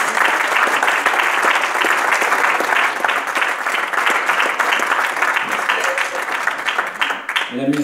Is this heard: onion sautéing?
no